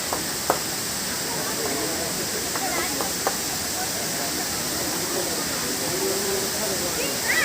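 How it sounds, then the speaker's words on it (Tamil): The Hogenakkal Falls send a steady, broad roar of falling water that stays constant and fairly distant, with a few faint knocks and no voices. "எவ்வளோ தண்ணி கொட்டுதுன்னு பாருங்கள்"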